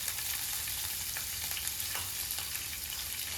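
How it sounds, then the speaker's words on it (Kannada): Mustard seeds, cumin and slit green chillies fry in oil with a constant close sizzle, small crackles and pops scattered through it, no voices. "ಇದನ್ನು ಆಯಿಲಲ್ಲಿ ಚೆನ್ನಾಗಿ ಫ್ರೈ ಮಾಡಿಕೊಂಡು"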